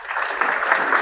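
Audience at a company staff address by a director general clapping steadily, a dense, even wash of applause filling the whole moment.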